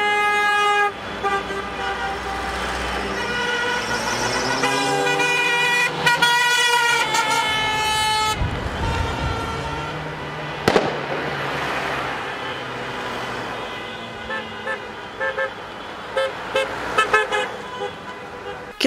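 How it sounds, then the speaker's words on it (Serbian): Car horns sound from a kilometre-long convoy of flag-decorated cars parading through city streets and suburbs of Trebinje, layered honks and toots overlapping steadily with traffic noise, some loud close blasts among more distant ones. "Kilometarska kolona automobila okićenih zastavama prošla je uz zvuke sirena gradskim ulicama i prigradskim naseljima Trebinja"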